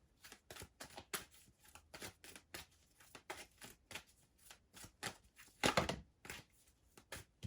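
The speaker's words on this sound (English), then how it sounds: "we have some cards flying out here" Tarot cards are shuffled in a quick, crisp run of riffling bursts, close and fairly quiet, with a louder slapping flurry near the end as several cards spill out; no one speaks.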